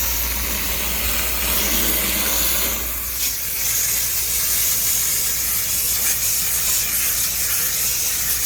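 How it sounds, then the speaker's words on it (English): Steady water spray rinsing old, fragile air-conditioner condenser coils during a no-cooling service call: a continuous close hiss that shifts slightly in tone partway through, with no talk. "We're giving this a quick rinse."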